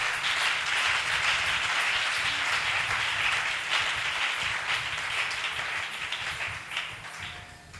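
A church congregation claps hands together, a dense sustained wash of applause that holds steady for several seconds before thinning out near the end.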